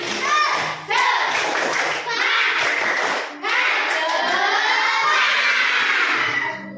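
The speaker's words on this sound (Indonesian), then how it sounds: "Tepuk semangat." A group of children in a classroom performs a rhythmic spirit clap, chanting loudly together between sharp bursts of hand claps, with brief pauses between phrases.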